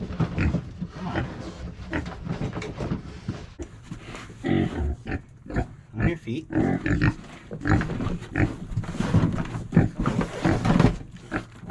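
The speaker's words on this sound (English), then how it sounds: "This pig just absolutely refuses to cooperate and back out of here" A pig grunts, squeals and snorts in loud, close bursts while refusing to back out of a dog crate, amid rattling and thumping as it shifts, with someone speaking briefly.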